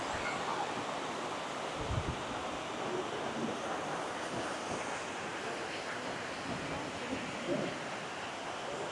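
Waterfall and flowing stream water at Yedigöller in a forest park setting: a steady, continuous broadband rush of water fills the scene at moderate level, with faint wind and a few brief thumps near the microphone.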